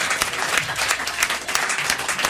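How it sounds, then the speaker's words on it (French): A studio audience at a talk show applauds, a brief, steady burst of many hands clapping close and fairly loud. "applaudir Raphaël pour cette trouvaille"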